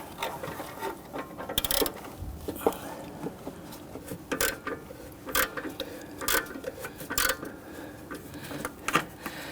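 Ratcheting wrench working loose an O2 sensor on a 2011-2015 Kia Sorento 2.4L, a series of close, quiet clicking pawl bursts and metallic ticks repeating irregularly under faint workshop background.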